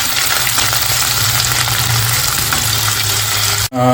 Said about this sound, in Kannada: ಆನಿಯನ್ ಹಾಕೊಂಡ ನಂತರ ಆನಿಯನ್ನ ಸ್ವಲ್ಪ ಫ್ರೈ ಮಾಡಬೇಕು